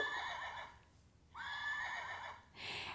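A horse neighs twice, a loud, shrill, wavering whinny close by, with a short pause between calls.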